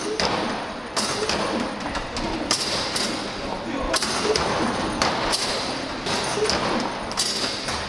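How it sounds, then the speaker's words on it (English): Basketballs thrown at a moving basket in an arcade basketball game, with repeated sharp thumps and bangs of balls striking the backboard and rim over steady machine noise and crowd hubbub, fairly loud and close. "I need to shoot with the basket moving."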